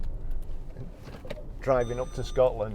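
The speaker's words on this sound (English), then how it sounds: "as you can hear there, that's the rear parking sensors" Rear parking sensor of a 2012 Porsche Cayman 2.9 987 PDK chiming in short repeated beeps, two bursts near the end, heard from the cabin just after someone speaks.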